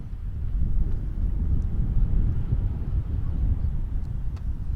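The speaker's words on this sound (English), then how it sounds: "Again, waiting on a pretty big gust of wind here." A strong gust of wind buffets a microphone at an outdoor girls' varsity tennis match, a steady low rumbling roar that holds throughout with no talk.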